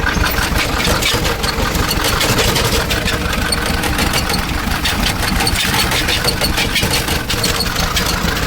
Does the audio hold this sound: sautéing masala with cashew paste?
no